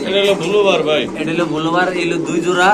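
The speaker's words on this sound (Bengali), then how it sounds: "মামুন ভাই আজকে এই কবুতরটা বিভিন্ন কালার আছে এক জোড়া এটা পরে দেখাইতেছে" Pigeons coo in soft, repeated throaty calls close by at a fancy pigeon farm, mixed with a steady background murmur of birds and people talking.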